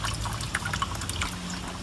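Coolant runs from the opened drain on a car radiator, a steady close trickle with small drips spattering throughout, no voices.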